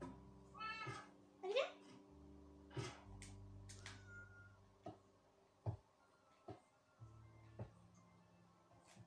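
A Minecraft cat meows several times, short and fairly quiet, between soft ticking clicks, while a person talks briefly over it.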